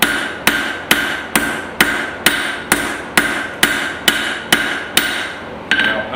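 A hammer strikes an iron and steel San Mai billet being thinned at the forge, about a dozen sharp ringing blows landing at an even, steady pace, loud and close with no talking.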